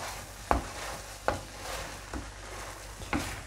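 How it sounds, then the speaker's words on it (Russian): A wooden spoon stirs freshly cooked rice in a pot, giving soft scraping strokes roughly every second over a steady low sizzle, close and moderately quiet. "Беру деревянную ложку, все хорошо перемешиваю."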